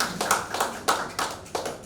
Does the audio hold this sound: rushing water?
no